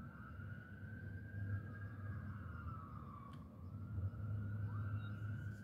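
A faint, distant siren wails up and down over a low engine rumble, its pitch sliding slowly, heard far off beneath traffic noise.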